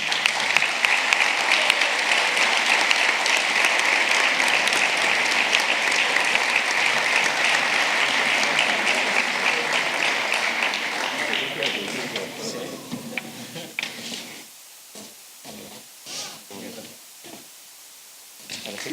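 Loud, sustained applause from the audience at a Roquetes sports awards ceremony, honouring a Catalan chess master; the dense clapping runs for about twelve seconds, then thins into scattered claps and a few voices.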